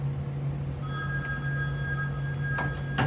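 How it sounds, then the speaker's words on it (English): An old telephone bell rings with a sustained metallic trill, and the ringing continues steadily at close range in a quiet room. "You're closer to the phone. Answer."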